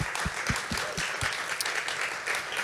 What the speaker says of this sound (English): So I just want to give a round of applause again to all of our different volunteers.